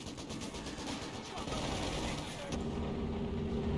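Bren and Vickers machine guns fire in a video game battle, a dense stream of rapid bursts and gunfire rattling continuously throughout, with overlapping shots and a steady loud level.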